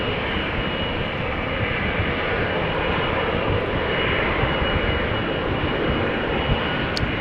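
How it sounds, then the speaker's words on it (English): Boeing 777-200 jet engines at Amsterdam Schiphol Airport make a steady, loud, broadband roar that holds unchanged the whole time, with no voices over it. "Now 777-200 to Cape Town, also on the move."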